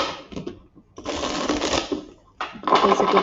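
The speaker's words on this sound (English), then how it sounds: "There's a good shuffle" A deck of tarot cards being shuffled during an intuitive reading, with two bursts of crisp riffling and flicking separated by a short pause, close and fairly loud.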